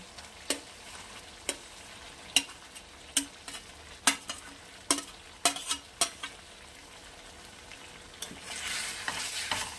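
Fried paneer cubes added to cooked masala in a pan for a vegetarian Bengali paneer kalia: a spoon strikes and scrapes the pan in sharp irregular knocks over a soft sizzle, and the frying swells louder at the end.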